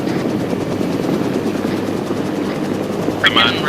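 A helicopter in Arma 3 drones steadily with a dense rotor roar and low engine rumble throughout, loud and close, with a brief higher-pitched burst near the end.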